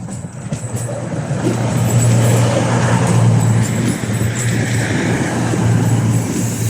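A British Rail Class 220/221 Voyager nine-coach cross-country train rolls steadily into Totnes station with a constant low rumble, wheel noise and faint clicks, continuous and fairly loud throughout.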